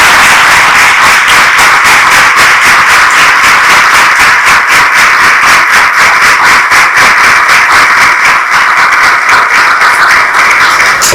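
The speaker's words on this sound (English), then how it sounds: "let's give them a round of applause as we congratulate them for getting their diplomas" An audience gives a loud round of applause for children receiving diplomas at a Balvikas ceremony, with close, continuous clapping that settles into an even, rhythmic pulse throughout.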